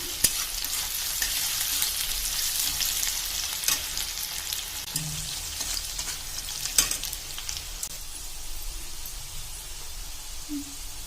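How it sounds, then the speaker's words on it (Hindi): Onions frying in a pan until reddish give a continuous close hiss and sizzle, broken by a few sharp stirring clicks and scrapes of the spoon against the pan. "पियाज को लाल लाल हेबा जाके फ्राई करमा"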